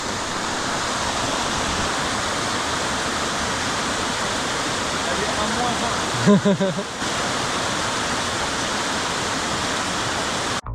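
A waterfall in Japan roars as a steady, dense rush of falling water, loud and close throughout, with a brief burst of voices partway through.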